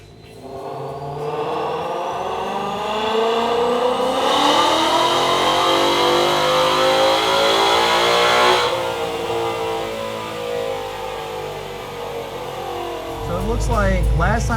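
A nitrous-equipped car engine revving on a dyno, a loud whirring roar that climbs steadily in pitch, holds near the top, then falls away before a brief rise again, close and dominant throughout.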